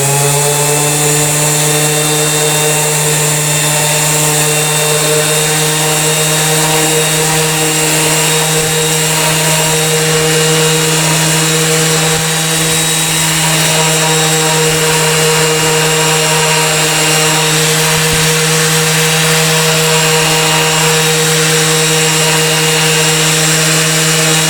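A Makita BO5041 5-inch variable-speed random orbit sander works over very rough, coarse-grained material, giving a loud, steady motor whine with a constant hum that runs unbroken and close throughout.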